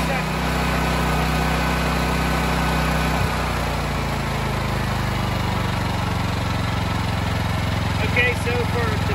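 A Ridgid 6800-watt generator runs with a constant, loud, buzzing engine drone close by, its tone shifting slightly a few seconds in, then holding steady throughout.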